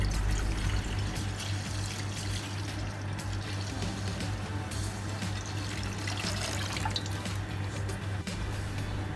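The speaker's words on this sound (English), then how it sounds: "Add 1 liter of milk into the pan" One liter of milk pours into a pan in a continuous, soft liquid trickle with faint dripping, steady and fairly quiet over background room noise.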